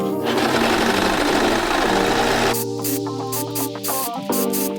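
A sewing machine runs fast and continuously while stitching a dress front and back together, whirring close and loud, then slows into short stop-start bursts toward the end.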